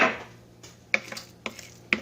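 Spoon scraping and clinking in a bowl of vegan pesto made with basil, garlic and pistachios, a few sharp separate taps and scrapes over a low hum.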